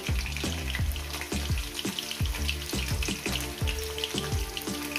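Potatoes frying in hot oil in a pan for a Bengali dish, a steady close sizzle broken by a regular rhythm of stirring knocks against the pan, with no talk.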